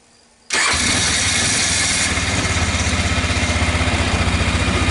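A Kazuma Jaguar 500 4x4 ATV with a rebuilt Keihin CV carburetor cranks and catches at once, then settles into a loud, steady, slightly pulsing idle close by.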